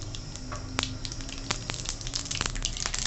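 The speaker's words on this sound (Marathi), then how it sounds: "आता आपण कढईमध्ये तेल टाकलंय त्यात आपण राई टाकून घेऊ" Mustard seeds sizzle and crackle in hot oil in a kadai, a steady dense fry with scattered sharp pops throughout, fairly close and moderately loud, with no talking.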